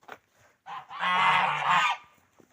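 A single loud, drawn-out squawking call from a bird nearby, preceded by a couple of short clucks, with quiet moments around it.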